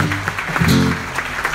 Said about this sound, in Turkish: Alkışlayalım şu arkadaşımızı.